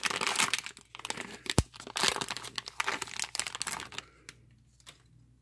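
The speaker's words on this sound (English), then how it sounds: "So last pack for this session, rip session." A 2018 Topps Series 1 baseball card pack wrapper is torn open up close, with crinkling and ripping foil bursts, one sharp tear, then quieter rustling as it settles.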